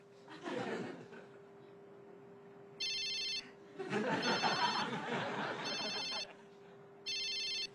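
A mobile phone rings in three bursts of an electronic ringtone, each lasting about half a second to a second, alternating with stretches of talk and light laughter in a room.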